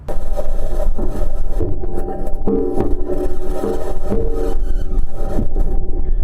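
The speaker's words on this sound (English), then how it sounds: "This is the sound of the rover driving on Mars." Loud, grinding mechanical rumble with metallic scraping and clanking as a Mars rover's metal wheels roll over rough, rocky ground, continuous and close.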